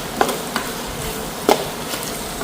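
Potatoes frying in oil while being stirred, a steady hiss with a few sharp scraping clicks of the spoon against the pan at irregular intervals, close and moderately loud with no talking.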